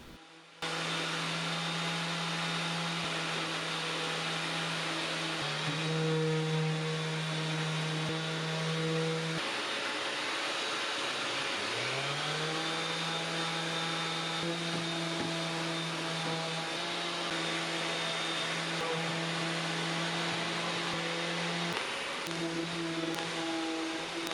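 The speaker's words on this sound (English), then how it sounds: "I started using this mouse detail sander with the foam attachment as well on the detailed areas." A mouse detail sander with a foam attachment whirs steadily and loudly on an antique serpentine dresser for the whole stretch, its motor pitch dipping and rising slightly as it works, with no voices.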